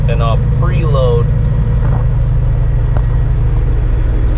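Semi truck diesel engine rumbling steadily at close range as the driver works through the gears, revving to about 1500 RPM, with a continuous loud low drone and faint tonal whines over the top.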